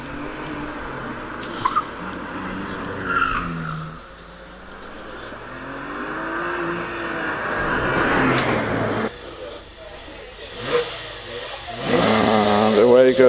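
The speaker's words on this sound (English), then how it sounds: "Robert Lancaster Gay sits on the line in his Porsche 997 GT3" A Porsche 997 GT3 sits on the start line at a Prescott hillclimb, its engine idling and revving before launching away, loud and close under the steady drone of a commentator talking throughout.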